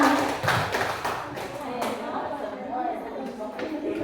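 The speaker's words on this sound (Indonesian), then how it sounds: "tepuk tangan untuk kita semua" A group of teachers at a school workshop applauding together: scattered, irregular claps in the first half, mixed with chatter and room noise.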